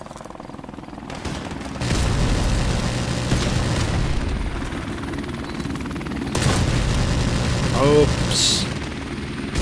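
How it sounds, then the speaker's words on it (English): A helicopter in a first-person shooter video game flies in with a loud, steady rotor roar that swells over several seconds, mixed with gunfire and bursts, while a player talks briefly. "the chopper's coming now"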